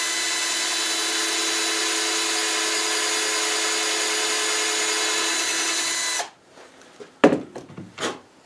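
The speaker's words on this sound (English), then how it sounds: "I want to drill this hole a little bit deeper." A power drill with a countersink bit deepening a hole in wood for window work, whining steadily and loud for about six seconds before cutting off, followed by a few soft scraping and handling noises.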